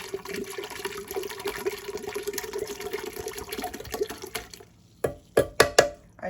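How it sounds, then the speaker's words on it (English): White balsamic vinegar poured from a bottle into a bowl makes a steady trickling, gurgling stream that stops abruptly, followed by a few louder drips and splashes. "And I just pour the whole thing in here."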